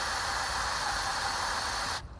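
Brake cleaner sprayed from an aerosol can into a 1994 Ford F-150 engine, a loud continuous close hiss lasting about two seconds before stopping abruptly.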